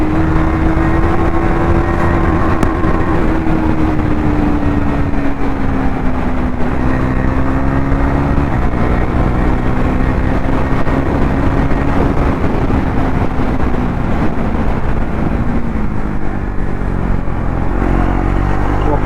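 A KTM Duke 390 BS6 motorcycle riding fast on a highway, its engine droning loud and steady throughout with pitch drifting slightly as revs shift, heavy wind and road rumble underneath.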